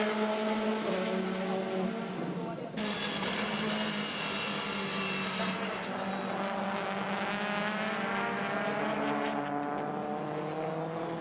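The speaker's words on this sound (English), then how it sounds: "So Tarquini goes across the line. And now final flying lap to go" WTCC touring race cars on a qualifying flying lap at the 2016 Russia round, engines screaming at high revs with gear changes and one car sweeping past, loud and continuous with no talk.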